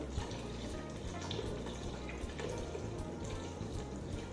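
Four cups of chicken broth pour into a soup pot for a celery root and parsnip soup, a faint continuous liquid splashing and gurgling with no talk.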